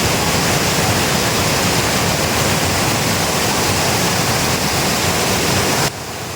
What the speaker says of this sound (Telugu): ఇక్కడ నుంచి అయితే ఆ కిందకైతే నీరు దూకుతున్నాయి